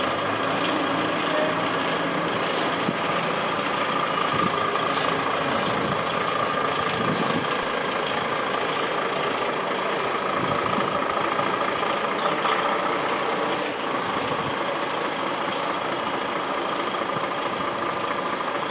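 New lorries idle at close range in a steady, unbroken engine rumble, with occasional faint clanks and hisses and no talking.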